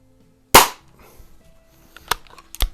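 A vintage Benjamin Trail NP .177 break barrel air pistol fires one sharp, loud crack up close, followed by a few fainter clicks and metallic knocks as it settles.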